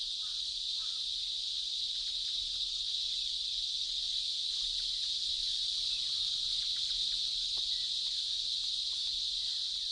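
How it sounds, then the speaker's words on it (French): Loud, unbroken high-pitched droning buzz of many cicadas, constant in volume throughout and filling the whole scene. "Chaque arbre peut accueillir une centaine de cigales. Le bruit qui en résulte est si fort"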